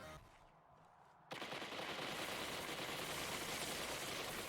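Dense, continuous rapid gunfire erupts abruptly after a quiet second in a Destiny 2 Crucible match, a steady loud stream of automatic shots with no pause.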